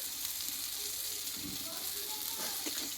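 Cooked-down masala with tomato and chopped coriander being stirred in a pan, giving a soft, steady sizzle and hiss with faint scraping stirs.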